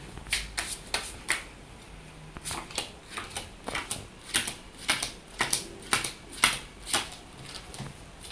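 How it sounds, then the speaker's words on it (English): Playing cards being picked one by one from a deck: a series of crisp, close card snaps and flicks at an irregular, fairly quick rhythm, quiet and alone with no talk. "I would like you to pick any 9 random cards out of this deck."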